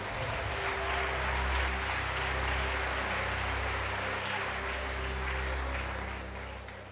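A church congregation claps together, a broad, steady patter of many hands heard at moderate distance over a low hum, holding evenly before easing off at the end.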